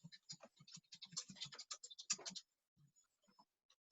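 Clicky keystrokes on a computer keyboard while entering a title into a shape in Excel, a dense run of taps for about two seconds, then a few sparse, softer presses.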